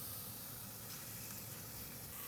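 Smash burger patty of bacon breakfast sausage piled with onions sizzling on a hot griddle, a steady dense hiss running the whole time, close and fairly loud.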